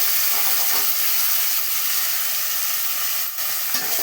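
Onions and tomatoes frying in hot oil with cumin, mustard seeds and turmeric, a loud steady sizzle with constant crackling and hiss, close up and uninterrupted.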